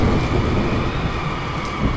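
A steady, dense roar of rain and gusting wind with low rumbling thunder underneath, continuous throughout and with no voices.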